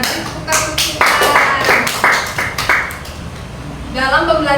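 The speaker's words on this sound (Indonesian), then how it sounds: "Tepuk Sinta" Classmates in a primary-school classroom clap a quick patterned rhythm for a student who answered correctly, a series of sharp, close bursts of claps, with voices speaking briefly at the end.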